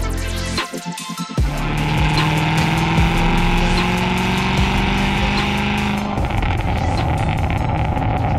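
A loud SVR car on a test drive, its engine droning and rising steadily from inside the cabin after a brief quiet moment, with harmonic tones climbing through gear changes over a continuous roar.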